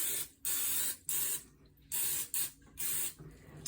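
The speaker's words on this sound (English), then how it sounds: "I always use butter spray." Butter cooking spray hisses from a can in a home kitchen, five or six short close bursts separated by brief pauses.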